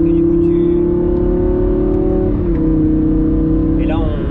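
A Lamborghini Gallardo Superleggera LP-560 engine holds a loud, close, steady tone, then dips and climbs again in a short rev toward the end.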